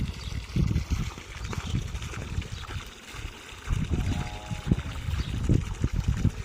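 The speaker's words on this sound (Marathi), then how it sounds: "दे आता पुढच्या झाडाचं पाणी" Water trickling and splashing as it runs onto mango and other garden trees, a steady uneven gurgle close by with scattered louder spurts and no talk.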